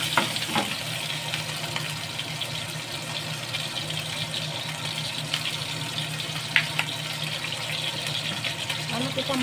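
Squid stir-frying with garlic chive flowers in a pan, a steady soft sizzle and crackle of hot oil running throughout, with faint scraping of a utensil and occasional clinks.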